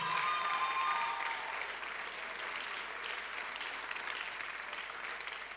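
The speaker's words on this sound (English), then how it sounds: "Give her a big round of applause." A church audience applauds as a speaker is welcomed onto the stage, dense sustained clapping that is loudest at the start alongside a brief whistle, then continues slightly softer to the end.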